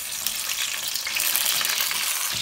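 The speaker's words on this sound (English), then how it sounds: "I'm sure you're hearing the sizzling over here." Steady, close sizzling of eggplant frying in a hot pan, a continuous crackling hiss with no talking.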